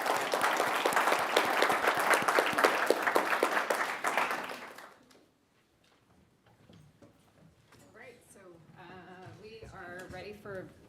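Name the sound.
audience applause for the panelists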